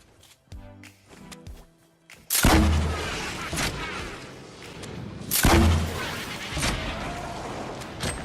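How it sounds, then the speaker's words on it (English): Holiday-themed pumpkin launcher firing in Fortnite, two loud booming launches about three seconds apart, each followed by a rumbling blast tail, after a short stretch of quieter game music. "the pumpkin launcher is definitely the most unique themed or holiday themed weapon we've had in Fortnite"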